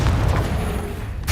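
A fiery Confringo spell blast in Hogwarts Legacy, a loud, low rumbling boom that fills the moment and slowly fades.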